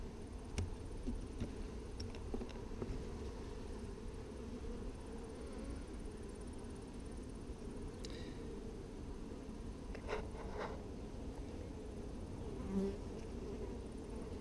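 Steady, dense buzzing of many honey bees swarming close by at an open hive, a continuous hum with a few individual bees zipping past louder.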